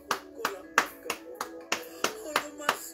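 A church congregation claps in a steady rhythm, about three sharp claps per second, close and fairly loud, with faint voices mixed in.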